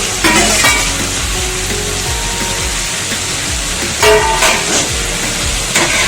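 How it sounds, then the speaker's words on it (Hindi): Fried ridge gourd and potato tipped into a pan of sizzling masala gives a steady, fairly loud frying hiss, with a couple of brief rattling bursts as the pieces land and shift. "अब मसाला रेडी हो चुका है, तो उसमें मैं अभी ऐड करती हूँ फ्राई किया हुआ जन्नी और आलू।"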